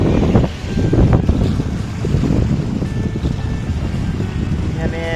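Water lapping around a rowing boat in the middle of the Shetrunji river, a churning splash mixed with gusty wind noise close to the microphone.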